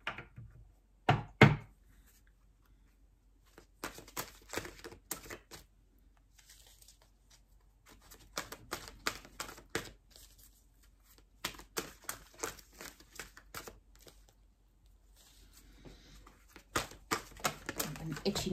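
Oracle cards are riffled and tapped in uneven bursts of dry clicking and fluttering, close by, broken by short pauses.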